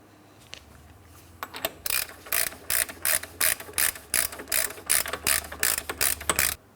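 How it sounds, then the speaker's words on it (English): A hand ratchet tightens the axle nut on a 2004-2008 Pontiac Grand Prix during a front ball joint job. About a dozen crisp clicking strokes come in a steady rhythm, close up, with no talk. "Now to tighten this, I'm going to be using a hand tool."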